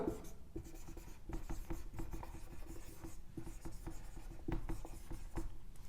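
Marker or chalk scratching across a board while a chemistry lecture on a methyl shift is written out, with short rubbing strokes in irregular rhythm, close and moderately quiet.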